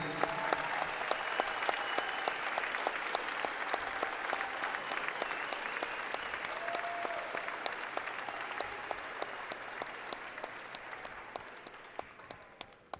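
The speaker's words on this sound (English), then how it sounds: "Please give a warm round of applause to these dedicated pioneers." Crowd at a high school girls' state wrestling championship gives sustained applause in a large arena, loud dense clapping that slowly thins and fades over several seconds, with a few scattered claps near the end.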